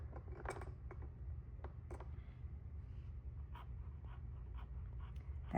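Pen nib scratching ink onto paper while swatching new inks, a series of faint short strokes and scribbles close by over a steady low background hum, no voices.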